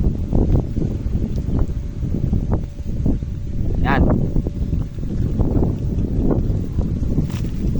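Heavy gusty wind buffets the microphone with deep rumbling roars, while a voice speaks briefly underneath.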